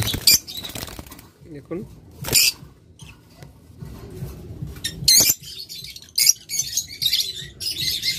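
A caged pair of sea green pet birds flutters and chirps in sharp, scattered bursts, wings beating briefly against the cage, while someone talks nearby.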